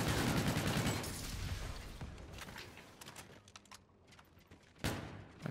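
Gunfire in Call of Duty Infinite Warfare: sharp bursts of shots, dense at first, then thinning to scattered reports with a loud shot near the end, fairly faint overall.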